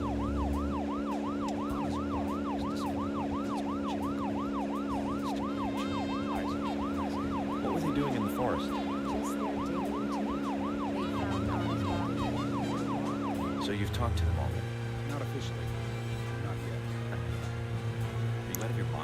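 Wailing emergency vehicle siren in the video game Deadly Premonition, a steady rising-and-falling electronic tone looping for about fourteen seconds over engine hum before cutting off, with a voice talking underneath.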